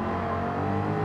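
A race car in the video game Gran Turismo 7 accelerating on a US circuit, a loud steady engine drone held close and continuous through the brief moment.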